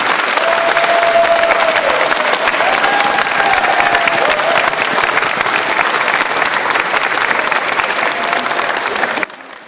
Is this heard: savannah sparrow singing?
no